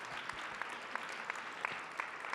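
Applause from a forum audience, steady and moderately distant, with a few sharper individual claps standing out at regular intervals and no voices over it.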